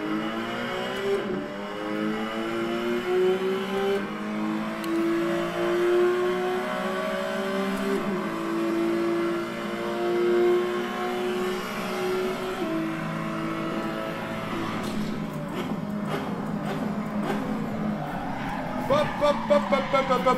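Porsche GT3 RS engine revving and accelerating during a drive, rising and falling engine tones running steadily throughout, with people talking over it.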